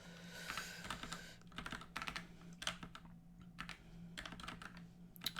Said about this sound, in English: I can't type. I'm not good with this keyboard.